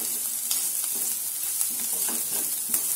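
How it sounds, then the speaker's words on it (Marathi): Garam masala and coriander powder frying in oil for egg masala, a bright steady sizzle with light intermittent scraping from a stirring spoon, close and unbroken by voices. "याला पण चांगलं तेलात परतून घ्यायचं."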